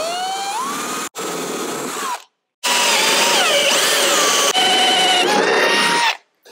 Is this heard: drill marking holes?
yes